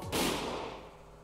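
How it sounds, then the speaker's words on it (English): A single sharp gunshot sound effect from the Higurashi When They Cry video game cracks loudly, then decays into a long echoing tail. "That was when I heard a gunshot."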